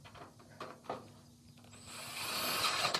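A magnetic driver runs a screw through a rain gutter hanger into the top edge of a metal barn roof, a rising whirring drill tone that builds over a couple of seconds after light tapping and handling.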